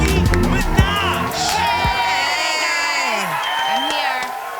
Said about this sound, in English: that's like a real audience that's applauding right now